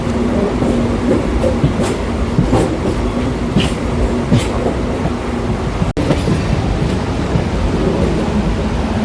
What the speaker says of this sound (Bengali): এবার আমাদের ট্রেন ডাবল লাইন থেকে সিঙ্গেল লাইনের দিকে অগ্রসর হচ্ছে।